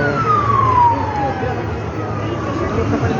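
A police escort siren wails loudly at a street rally, its descending tone sweeping over heavy traffic and crowd noise close by.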